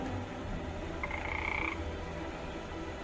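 A frog croaks once in a short, rasping burst over a steady low background hum, near and fairly clear, with no talking.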